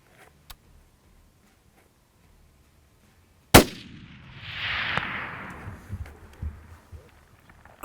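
A single sharp, loud rifle shot cracks out at a springbuck during an African hunt, aimed at about 380, followed by a lingering ringing echo and brief talk.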